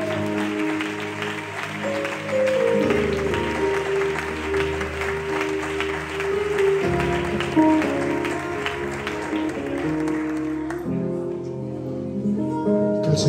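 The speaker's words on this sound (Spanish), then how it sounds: "Le damos un aplauso al más grande." Applause from a church congregation at a pastor's farewell service, steady clapping over organ or keyboard music with a voice leading through it, fading near the end as music continues.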